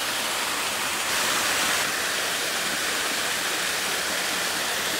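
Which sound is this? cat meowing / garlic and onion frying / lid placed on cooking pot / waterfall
waterfall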